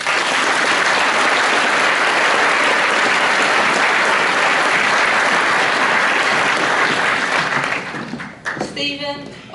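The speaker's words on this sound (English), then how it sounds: "Can we give these girls a round of applause?" Dense, steady applause from a large crowd at a Year 13 graduation ceremony fills most of the clip, then thins out near the end as a brief voice or whistle cuts through.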